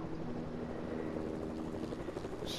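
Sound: helicopter flying, from a video game (Fortnite)

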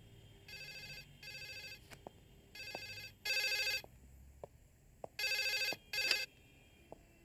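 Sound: telephone ringing

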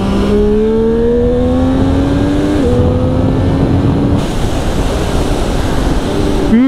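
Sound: motorcycle engine downshifting through gearbox

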